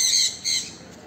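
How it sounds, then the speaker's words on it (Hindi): A large blue, white and yellow parrot with a black beak squawks twice at a bird park in Chandigarh, two harsh, loud, close calls in quick succession. "कितना बड़ा तोता है"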